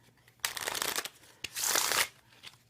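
Bicycle stock playing cards with an air cushion finish being shuffled up close, two quick riffling bursts separated by a brief pause.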